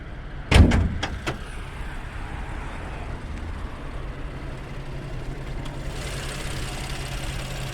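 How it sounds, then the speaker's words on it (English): A BMW M2 bonnet is popped open, giving a sharp latch clunk followed by a couple of lighter metallic clicks, then a steady low engine-bay hum continues alone. "I'll just pop the bonnet"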